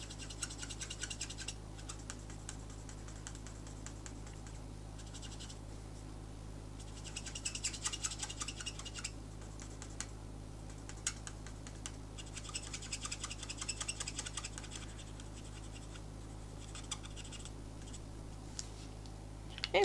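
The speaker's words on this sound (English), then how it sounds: "I'm just going to use my colour lifter just to sort of make it slightly lighter." Colour lifter rubbing on paper card, faint repeated close scratchy strokes in several bursts over a steady low background hum.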